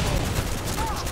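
Rapid sidearm fire in Call of Duty: Modern Warfare 2, a dense, loud burst of shots blurring together for about a second.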